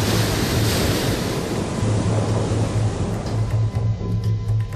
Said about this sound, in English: Sandy's storm surge dumps 500 million tons of Atlantic water on New York City